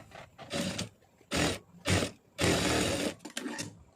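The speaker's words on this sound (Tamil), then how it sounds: "இதையும் அப்படியே ஒரு படிமான தையல் போட்டுருவோம்" A sewing machine stitches the lining of a cross-cut blouse in several short whirring bursts separated by brief pauses, loud and close.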